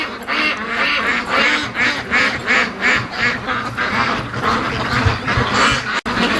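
A flock of free-range ducks walks around a yard, quacking repeatedly in loud overlapping bursts with a steady rhythm of calls close by, over faint outdoor background noise.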